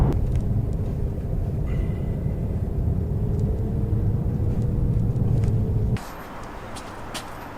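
A BMW M4 drives along with a steady, loud engine and road rumble heard from inside the cabin, and the tone shifts abruptly near the end.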